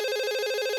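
A cartoon telephone rings with a steady, bright electronic trill, a short burst under a second long, loud and close with no talking.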